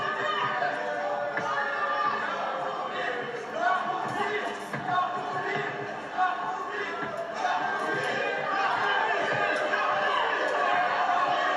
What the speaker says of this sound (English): They're all chanting.